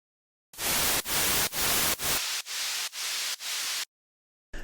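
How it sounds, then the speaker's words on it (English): White noise played in alternating bursts, first several loud full-range hissing blocks, then several thinner, quieter blocks with the low end cut by EQ, each separated by brief gaps, ending in silence. "take a listen to the difference between what this white noise has when I take the EQ off"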